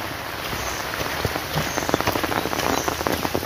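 Steady rain falls on a paddy field, a dense close patter of drops striking the ground and surfaces, continuous throughout with no voices.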